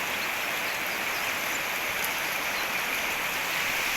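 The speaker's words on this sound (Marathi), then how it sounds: "हे बघा नदी" Steady broadband rush of a Konkan river flowing below a roughly 20-foot drop, a continuous close wash of water with no talk over it.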